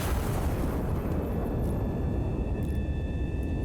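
An artillery gun in the game Iron Nest fires a shell, heard as a dense, steady, loud booming roar with a low rumble and no pause through the whole stretch.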